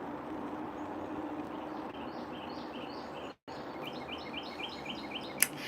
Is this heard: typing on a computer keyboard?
no